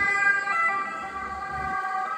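An Italian ambulance siren wails along a Milan street, its two-tone cry fairly close and loud over low traffic rumble, without any talking.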